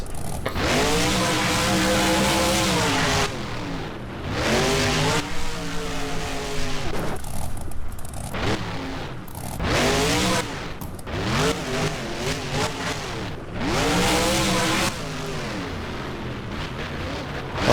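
Monster Energy monster truck in the BeamNG driving game, its engine roaring loudly and continuously with rising and falling revs through a freestyle run in an arena, the sound staying close and dominant throughout.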